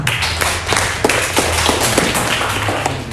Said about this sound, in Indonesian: tepuk tangan untuk Edmund